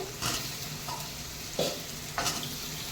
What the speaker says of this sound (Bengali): আর এই রসুনটাও দিয়ে দেবো তেলের উপরে পেঁয়াজগুলো দিয়ে দেবো